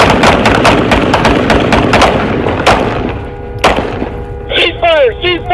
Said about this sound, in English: Shots fired at him.